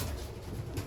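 Racing pigeons give a soft, low, brief coo close by in a quiet loft, with no voices.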